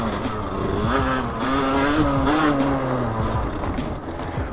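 Derbi Senda motorcycle on supermoto tires riding through a forest, its engine close and loud with wavering revs rising and falling over rough ground.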